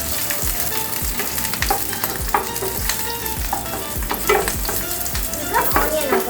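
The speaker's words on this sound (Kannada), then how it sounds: "ಈಗ ನಾನು ಹಸಿಮೆಣಸಿನಕಾಯಿ ಹಾಕೊಂಡಿದ್ದೀನಿ ಫಸ್ಟಿಗೆ. ಈಗ ಇದನ್ನು ಫ್ರೈ ಮಾಡ್ಕೊಳ್ಳಿ." Green chilies frying in oil in a pan, a loud close crackling sizzle with a regular rhythm of stirring knocks and scrapes throughout, no voices.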